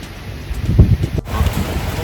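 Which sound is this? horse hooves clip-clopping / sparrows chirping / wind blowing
wind blowing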